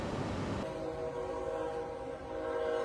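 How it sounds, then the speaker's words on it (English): A train rumbles toward a road crossing with a sustained horn blast, steady and fairly loud, as it bears down on an 18-wheeler carrying wind turbine blades turning across the tracks in Luling, Texas; no voices are heard. "an 18-wheeler truck carrying wind turbine blades was struck by a train while turning across the tracks."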